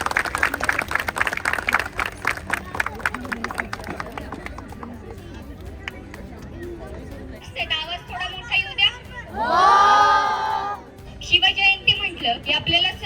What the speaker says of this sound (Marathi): परत टाळ्या अजून त्याचं स्वागत करायचं